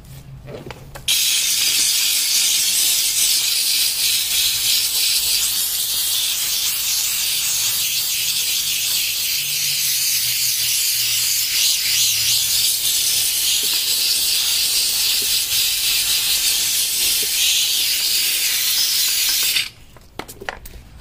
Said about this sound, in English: We're just gonna use the steamer and see how that comes out.